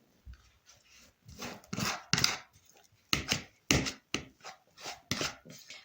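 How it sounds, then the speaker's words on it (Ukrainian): Irregular scraping and tapping of a fork against a bowl while mashing egg yolks with a pinch of salt, a series of short close strokes with brief pauses, no talking. "І переминаємо їх виделкою"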